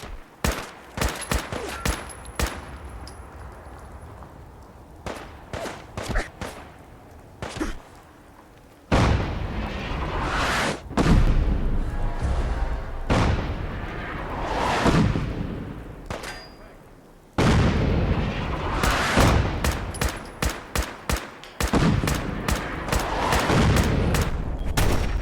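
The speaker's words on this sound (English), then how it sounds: "Fire incoming on your target." Artillery strike in Fallout 4: a long barrage of heavy booming impacts and crackling blasts, loud and close, with sharp hits scattered early and two sustained rumbling surges of explosions later.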